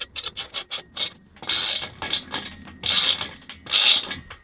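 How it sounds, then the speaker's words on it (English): A ratchet and socket tighten bolts on a three-tier kayak rack, bursts of rapid clicking and rasping strokes repeating close by, separated by short pauses. "So to tighten these, you need the 14 and then 13 socket."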